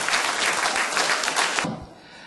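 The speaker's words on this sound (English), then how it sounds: "a really big round of applause, Cameron and Joe!" An outdoor carnival queen presentation crowd gives a big, dense round of applause that holds steady, then stops abruptly, leaving faint background noise.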